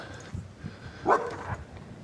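A dog gives a single short bark partway through, mid-distance and clear, over a low, steady background murmur.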